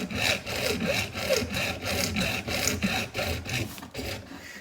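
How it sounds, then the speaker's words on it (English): A hacksaw cuts through PVC pipe with steady, rhythmic back-and-forth rasping strokes, close and continuous throughout. "I'm just showing you using the hacksaw"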